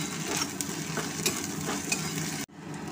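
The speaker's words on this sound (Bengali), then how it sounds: "নেড়ে চেড়ে নিয়ে হালকা ভাজা ভাজা করে নেব" Ginger and garlic paste frying in a pan while being stirred, a continuous close sizzle with scraping spoon strokes roughly every half second, briefly cut off near the end before resuming.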